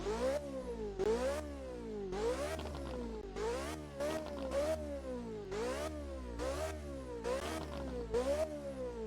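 Lamborghini Temerario GT3 engine revving hard in a series of about nine rising, howling bursts, each climbing in pitch and dropping back between shifts, loud and close with no talking.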